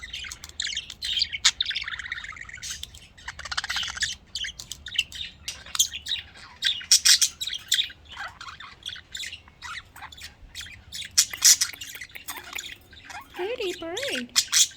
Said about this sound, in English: And when one starts singing, all the males start singing.